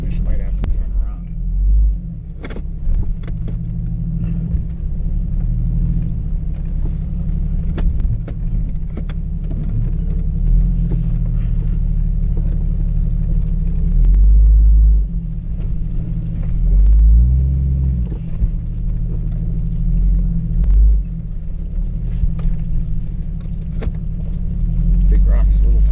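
An off-road vehicle with small tires crawls over big rocks on the Eldorado Canyon trail, producing a loud continuous low engine rumble with surging revs and occasional knocks while people talk over it.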